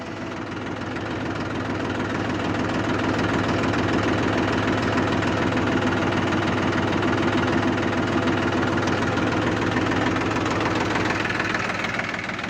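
A New Holland 3510 diesel tractor engine idles steadily and loudly, its low knocking throb continuous throughout with no pauses.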